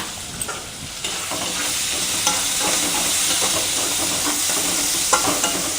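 Sliced onion fries in oil with cumin and mustard seeds. A dense, steady sizzle runs throughout, with occasional soft crackles and utensil taps; no one speaks.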